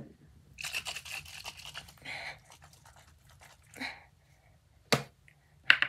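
Setting spray misted onto the face from a pump bottle: several short hissing spritzes, close and crisp, separated by pauses, followed by a couple of sharp clicks of the bottle, with no talking.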